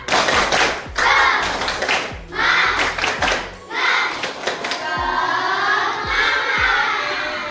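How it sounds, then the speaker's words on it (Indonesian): A fifth-grade class does the rhythmic tepuk semangat clapping chant, with children's voices chanting in bursts between patterned claps and thumps. Clapping and chanting alternate in short phrases, close and loud. "Yuk kita tepuk semangat, tepuk semangat."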